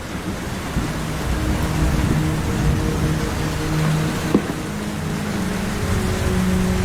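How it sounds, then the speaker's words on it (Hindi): Steady, dense rainfall in a cartoon forest hisses loudly throughout, with a low rumble underneath and no voices. "पिछले 7 दिनों से जंगल में बहुत तेज बारिश हो रही है।"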